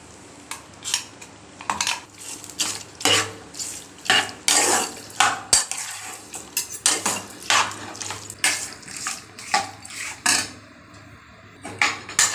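Ginger garlic paste and rock salt being stirred in oil in a metal pot, with repeated rhythmic scraping strokes of a spoon against the pot, close and clear, with no speech.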